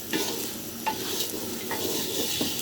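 Rice with chopped onion fried in oil for vegetable khichuri, a constant close sizzle broken by a spoon scraping and stirring the pan in several soft, regular strokes, with no voices.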